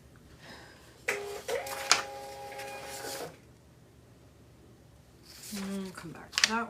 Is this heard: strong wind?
no